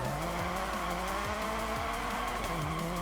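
A rally car from the DiRT Rally video game runs on gravel, its engine droning steadily with dips in pitch at gear changes, tires hissing and skidding underneath, loud and continuous with no voices.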